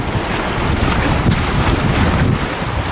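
Fishing boat riding waves back into port off Binh Thuan, Vietnam, with loud wind buffeting the microphone and rushing water and surf forming a constant close roar.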